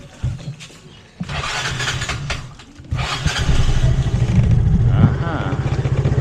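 A motorcycle engine cranks over and catches, then settles into a steady, close idle with a throbbing pulse, while people talk nearby.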